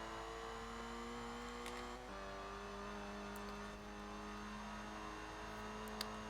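Citroen DS23 driven in Forza Horizon 4, its engine holding a steady drone that drops pitch at a gear change midway, then settles into an even cruising hum with faint tyre and wind noise.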